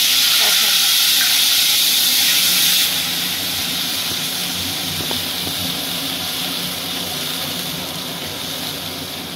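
Mustard-poppy paste with green chillies dropped into hot oil for a hilsa fish dish, a loud, close, hissing sizzle that eases slightly after a few seconds and then holds steady.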